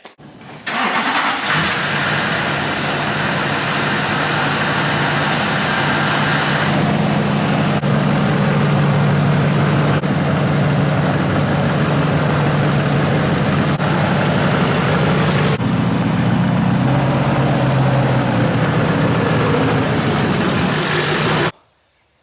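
A Chevrolet Silverado Duramax diesel truck starts up and runs at a steady, loud idle close by while it is pulled out of a garage, then the engine cuts off.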